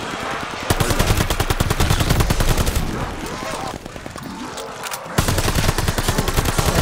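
Chain gunner enemy in Call of Duty Vanguard zombies on the Shi No Numa map firing a minigun, a loud rapid stream of gunfire in long sustained bursts with a brief pause, while a player talks.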